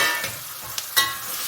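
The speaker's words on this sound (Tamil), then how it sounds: "வெங்காயம் போட்டுட்டு நல்லா கிண்டணும்." Onions stirred in a hot frying pan while making Maggi goreng: a steady close sizzle with a few sharp scrapes of the spatula against the pan.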